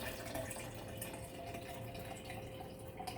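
Ginger tea concoction being poured into a container, a faint, steady trickle of liquid with a low background hum.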